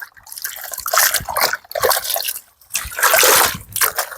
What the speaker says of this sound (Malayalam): ഈ ഒരു വെള്ളത്തിൽ നിന്ന് നമ്മൾ നല്ല വെള്ളത്തിലേക്ക് മാറ്റുകയാണ്